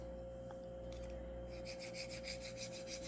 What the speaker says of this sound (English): we can scrape the boom down here and get rid of all the fuzzies